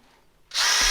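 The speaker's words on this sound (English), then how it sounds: "So I'm going to drill holes in the bottom of each one of these" A power drill drilling holes in the bottoms of plastic seed-starting flats whirs to life abruptly and runs at a steady high pitch, close and loud.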